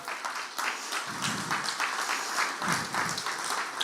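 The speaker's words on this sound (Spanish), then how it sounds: "Un aplauso al Señor por Ludi." Church congregation applauds together in sustained clapping, with a few brief voices rising through it, recorded inside the hall during a Sunday gathering.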